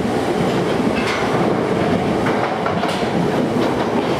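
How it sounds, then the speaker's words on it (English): A train runs on its rails, loud and close, with a continuous rumbling roar and a rhythmic clickety-clack from the wheels throughout. "Empty train"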